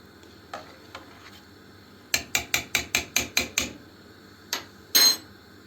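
Quick scrubbing strokes around an old, burnt teapot, about eight sharp rhythmic scrapes in a steady burst, with a few scattered scrapes before and after.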